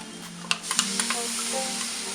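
Ground spice paste sautéing with onions in a pan for fish molee, a steady close sizzle with several sharp clicks and scrapes of a spoon stirring.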